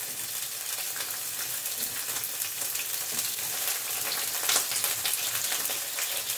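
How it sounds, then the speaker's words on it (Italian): Large prawns sizzling in hot olive oil with two small garlic cloves in a pan, a dense, steady crackle and spatter of frying throughout, close and loud, with no talk. "Adesso che si è fatto un pochettino scaldare l'olio con due spicchiettini di aglio, metto dentro i gamberoni."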